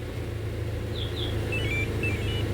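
A key fob disarms the alarm of a Toyota Land Cruiser Prado 150 fitted with a Pandora VX3100 system, its engine idling in a low, steady rumble, followed by a few short, faint chirps.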